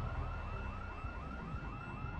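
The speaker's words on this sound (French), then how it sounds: "Qui c'est qui a déclenché une alarme?" A vehicle alarm in the zombie survival game Project Zomboid wails with rapid, evenly repeating rising sweeps, loud and continuous, with no voices over it.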